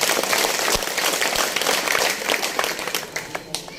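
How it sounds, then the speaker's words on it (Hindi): Dense, loud applause from a crowd at a political speech by a former SDM, continuous clapping that thins slightly toward the end. "एक बार जोर की ताली बजा दीजिए"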